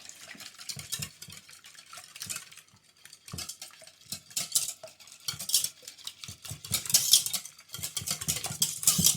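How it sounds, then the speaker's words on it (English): Eggs are whisked in a bowl with a utensil in quick, uneven bursts of clinking and scraping, close and fairly quiet, with brief pauses. No one speaks. "And then what I do is I like to whisk them"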